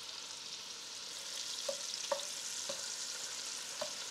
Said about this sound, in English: once you've got that butter browned and bubbly, you throw in your meat